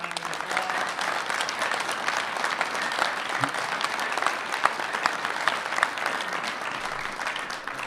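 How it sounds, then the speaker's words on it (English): A municipal conference audience applauds the governor steadily and loudly, dense clapping sustained for several seconds without pause, with a faint voice or two mixed in. "Let's give the governor a round of applause"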